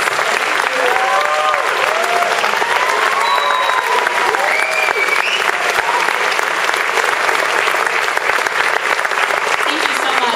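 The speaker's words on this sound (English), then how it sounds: "could you please stand up so we can give you a round of applause?" Sustained, loud applause from a seated audience standing to honor volunteer mentors at a startup camp event, dense steady clapping filling the full stretch with a few whoops and cheers rising above it.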